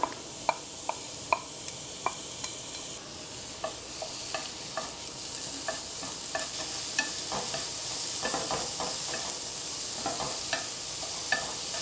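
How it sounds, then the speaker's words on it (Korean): Zucchini stir-frying in a hot pan with a little oil, a steady bright sizzle running throughout while a utensil taps and scrapes the pan in regular strokes, close by and without voices. "자, 호박을 살짝 볶을게요."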